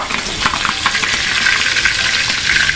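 Food fries hard in a hot pan, a dense, loud, continuous sizzle and crackle close by, with faint stirring scrapes and no voices.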